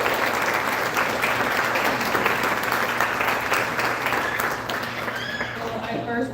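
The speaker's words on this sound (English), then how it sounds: "you can give her a round of applause" Audience at a sports awards banquet applauding a volleyball coach: dense, sustained clapping from a crowd in a hall, easing off slightly at the end as a voice starts speaking.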